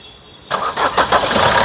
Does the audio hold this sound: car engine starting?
yes